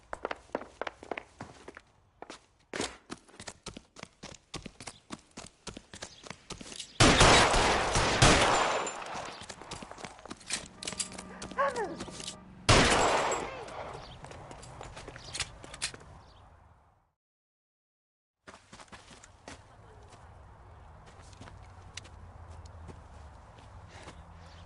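Gunfire in the L.A. Noire video game, a burst of loud shots around two intense stretches, mixed with footsteps, scuffling and other game effects, followed by a short silence and quieter ambience.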